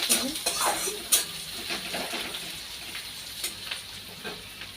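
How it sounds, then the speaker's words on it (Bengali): Food fries in a kadai (wok) over a gas flame while chicken and rice are being cooked, a soft continuous sizzle with occasional clinks of utensil on metal and light stirring, fairly quiet. "তো চলো, ভাজা ভাজা হয়ে যায়।"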